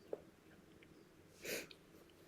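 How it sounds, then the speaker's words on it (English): One short, sharp sneeze bursts out midway through an otherwise quiet stretch, close by, with soft breathing sounds around it. "So I don't know what's making me sneeze this morning."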